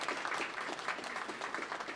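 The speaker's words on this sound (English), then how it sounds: "Big applause for the workers out here today." Applause for hard-hatted workers at an MTA news conference for the newly accessible 181 St subway station in New York, a steady, moderately distant crowd clapping that carries evenly through the moment.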